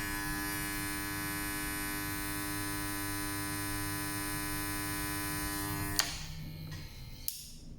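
An Andis ProAlloy hair clipper runs with a steady, close electric buzz and harmonic hum, then cuts off abruptly near the end, leaving a quiet room with a couple of small clicks.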